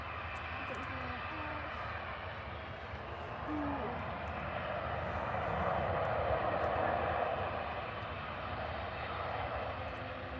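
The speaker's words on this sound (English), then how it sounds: "Oh, what's this coming in? Ooh. EasyJet." An EasyJet airliner arriving from Belfast at Manchester Airport, a steady distant engine roar that swells gently and holds, with people talking nearby.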